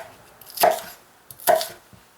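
Two crisp knife strokes chop through bok choy on a cutting board, spaced under a second apart, close and clear with no talking.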